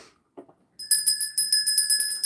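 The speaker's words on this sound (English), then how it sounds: "I felt like ringing the bell" A bright metallic bell rings in a rapid series of about ten evenly spaced strikes with sustained ringing tones, loud and close, after a couple of soft knocks.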